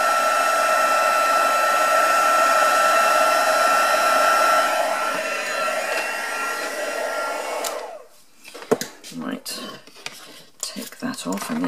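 Heat tool blowing hot air across the back of stamped paper to flatten it, a loud steady whooshing roar for about eight seconds, then it cuts off, followed by clattering handling knocks and taps.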